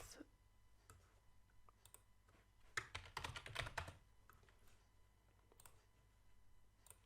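Quiet typing on a computer keyboard: scattered soft key clicks with a short dense flurry of taps in the middle, close and isolated, no talking.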